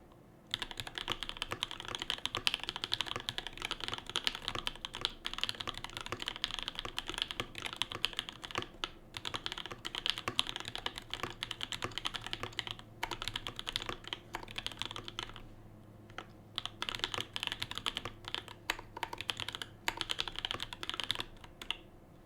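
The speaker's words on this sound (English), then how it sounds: "so this is the keyboard I've been using for a while." Continuous fast typing on a Mark 65 keyboard, dense clattering keystrokes close by with a few short pauses, otherwise quiet.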